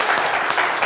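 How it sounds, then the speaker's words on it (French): A show audience claps loudly for a guest called to the stage, a brief burst of dense, even applause. "applaudissez-le bien fort."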